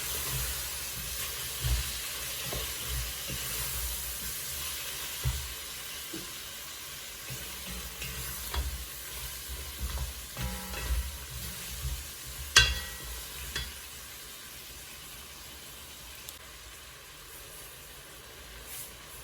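Beef pilau being stirred in a hot pot, a low steady sizzle underneath scattered scraping and clinking of the spoon, with one sharper knock partway through; no voices.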